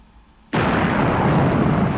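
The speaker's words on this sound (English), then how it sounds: "With a big explosion" A big explosion from a hit on a destroyer in the War in the Pacific naval strategy game, a sudden loud blast after half a second of quiet that roars on steadily to the end.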